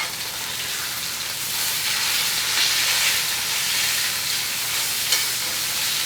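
Food sizzling in butter on a Field Co. #9 cast iron griddle, a steady bright hiss and crackle that swells slightly and holds at an even level throughout, with no voices.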